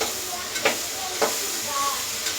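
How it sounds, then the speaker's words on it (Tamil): Ginger and garlic sizzle in a pan with tomato, onion and green chili, giving a steady, bright frying hiss with a few faint crackles and stirring clicks throughout. "சொரன்னு சவுண்டு இருக்கும்"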